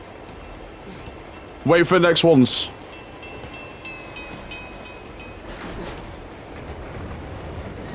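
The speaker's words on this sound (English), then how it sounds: "Oh my God, how long is this train?" A long train passing by in the video game Uncharted 2: Among Thieves, a faint, steady rolling rumble in the background, briefly covered by a short spoken line near the start.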